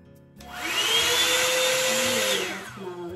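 A Revlon one-step hair dryer runs on its cool, low setting, switching on with a steady, loud airy whoosh and motor whine that holds for about two seconds, then tapers off.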